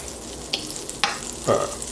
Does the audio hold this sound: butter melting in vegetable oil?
yes